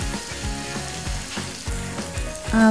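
Asian pork slider patties frying in a hot pan, a steady close sizzle with rhythmic pulses and a slightly louder burst near the end, no voices.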